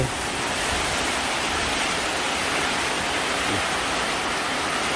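Steady, dense rain pours down at midday in rural Thailand, a constant close hiss of drops on roofs and ground with no pauses and no voices.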